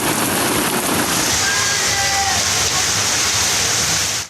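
A morning downpour in Lahore produces a dense, steady roar of heavy rain, loud and continuous throughout with no letup, like water pouring over a surface.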